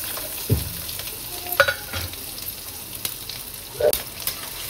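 Garlic and ginger frying in a hot pan with asafoetida and cumin, giving a faint, steady sizzle broken by a few soft stirring clinks and scrapes.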